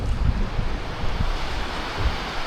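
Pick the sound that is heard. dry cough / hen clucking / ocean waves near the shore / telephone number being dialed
ocean waves near the shore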